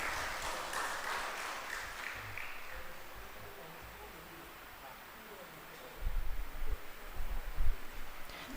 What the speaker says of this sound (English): Let us all give another round of applause.